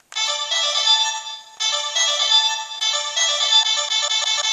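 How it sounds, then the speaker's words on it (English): A phone ringtone from a show plays three times in a row, each loop a bright, steady electronic tone with a short gap between repeats, loud and clear with no other sound. "just the ringtone looped 3 times"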